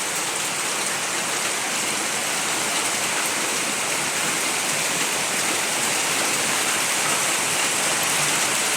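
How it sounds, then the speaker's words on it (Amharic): Loud, unbroken rush of rainy-season floodwater pours on steadily and close, a dense roar with no pauses and no voices. "አሁን እንዴት እንደሚወርድ ጎርፍ ማለት ነው"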